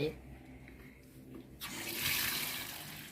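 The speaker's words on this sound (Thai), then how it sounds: "โดยขั้นแรกเราต้องเอาน้ำใส่" Tap water runs into a container to wash fresh, still-live crabs, quiet handling noises at first, then a steady rushing pour that fills the second half.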